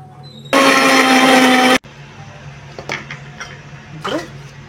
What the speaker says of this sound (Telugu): ఇప్పుడు ఇది ఒకసారి మిక్సీ వేసుకుందాం.